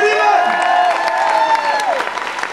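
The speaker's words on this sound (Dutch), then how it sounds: "Applaus voor Annie en Riemer" A live crowd applauds and cheers for Annie and Riemer at a CD presentation by a Dutch band, steady clapping filling the whole stretch with a tonal layer running through it.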